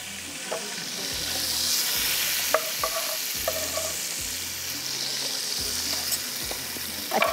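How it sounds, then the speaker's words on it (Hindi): Sliced onions frying in a pan of heated butter and oil, a steady close sizzle with hissing and occasional stirring clicks and scrapes, no voices. "कटिंग करके हम इसको स्लाइस में इसको यहाँ फ्राई करने रख रहे हैं।"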